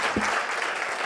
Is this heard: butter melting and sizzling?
no